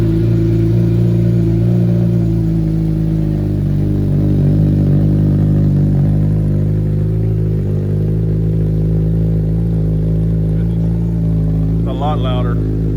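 A 2025 Suzuki Hayabusa with an M4 slip-on exhaust runs close by with a loud, steady engine drone and a few mild revs. A short voice is heard near the end.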